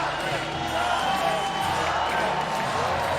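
A large esports arena crowd at a Counter-Strike grand final roars and cheers in a steady, dense wash of noise, with a commentator's voice talking over it.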